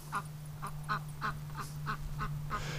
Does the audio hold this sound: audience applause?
no